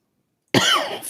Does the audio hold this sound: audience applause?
no